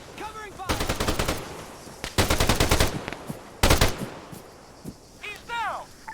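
Automatic rifle fire in the Arma 3 video game comes in three sharp, rapid bursts, each a close, loud rattle of shots, with faint chirping effects between and after them.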